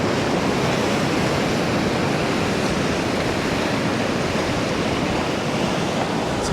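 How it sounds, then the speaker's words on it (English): Ocean waves wash in on the shore as a constant, full roar of surf, loud and unbroken throughout with no talking. "We want a good wave."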